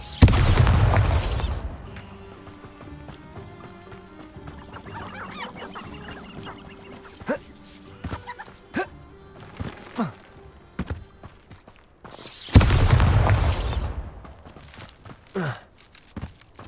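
Bombarda blasting spell cast in Hogwarts Legacy near Hogsmeade, booming loudly at the start and again near the end, with quieter game footsteps and ambience in between.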